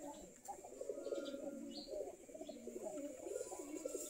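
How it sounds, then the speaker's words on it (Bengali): Domestic Giribaz pigeons, a local breed kept in a flock of several dozen pairs, coo in soft overlapping low murmurs throughout, close by and steady, with faint chirps and some background voices. "আমাদের দেশি কবুতর"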